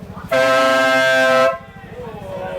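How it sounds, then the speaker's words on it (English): A Stebble Nautilus air horn on a custom Vespa scooter blasts once, a loud, steady, brassy tone held for just over a second, with the engine idling underneath. "Stebble Nautilus air horn"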